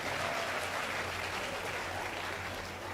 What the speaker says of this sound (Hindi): जरा तालियां बजा दीजिए मित्रों।